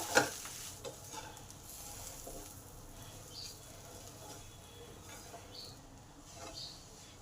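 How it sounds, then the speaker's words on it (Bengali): Ground spice paste is stirred through okra frying in a pan, a soft sizzle running under intermittent scraping strokes, fairly quiet and close, with a faint voice in the background. "এবার এই মশলাটাকেও ভালো করে ভেন্ডির সাথে মিশিয়ে নেব"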